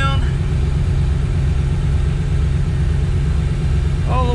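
An RV engine idles through a new 2.5-inch muffler and a 3-inch tailpipe, making a steady, loud, low exhaust rumble that stays even throughout.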